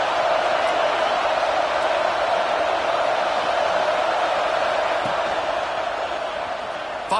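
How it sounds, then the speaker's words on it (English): A packed football stadium crowd roars loudly and steadily throughout, a dense wall of massed voices with no break. "Listen to this crowd just shaking the girders of this place"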